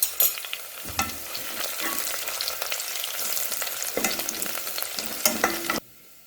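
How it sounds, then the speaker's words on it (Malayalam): Curry leaves sizzling in hot oil for a Kerala-style jackfruit seed stir-fry, a bright, steady crackle broken by sharp spatula knocks, ending abruptly into quiet. "നമുക്ക് ലേശം വേപ്പില ഇട്ട് കൊടുക്കാം."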